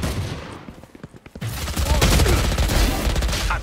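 Rapid bursts of gunfire in the tactical shooter Valorant, starting as scattered single shots and building into a dense, loud fusillade that fills the rest of the moment, with game sounds mixed in.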